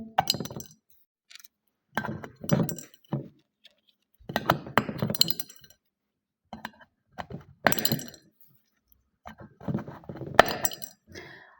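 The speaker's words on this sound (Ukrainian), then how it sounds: "Ми закидаємо нашу мозаїку у скляночку." Small plastic mosaic pieces are dropped into a glass cup in bursts, giving sharp clinks and rattles separated by short silences, close and fairly clear with no talking.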